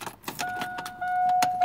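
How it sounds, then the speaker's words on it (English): Keys jangle in the ignition of a 2000 Chevrolet S10 pickup as it is switched off, a few close metallic rattles over a steady chime tone, with the cabin otherwise quiet. "Turn the vehicle off."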